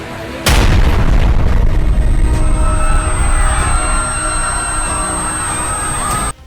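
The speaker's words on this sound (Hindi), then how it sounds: "सामने एक बाइक में विस्फोट होता है।" A bomb hidden on a motorbike detonates in a busy Muslim-majority street in Malegaon, one sudden loud blast followed by a long roaring, rumbling tail with scattered debris and crackle that stays strong before cutting off.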